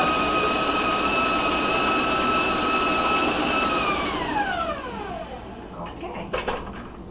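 An electric stand mixer with a paddle beats chocolate loaf cake batter with a steady, loud motor whine, then the pitch sinks as the mixer winds down, followed by a few light knocks.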